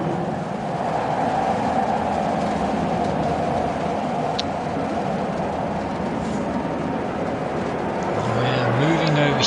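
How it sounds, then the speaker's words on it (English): Steady rumbling ride of a tram in the video game Riven, a continuous mechanical drone with rising whine tones near the end, fairly loud throughout. "Let's see where this tram leads us."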